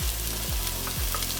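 Onions sautéing in olive oil in a pan, a close, even sizzle with a few soft stirring scrapes over a short stretch, without any voices.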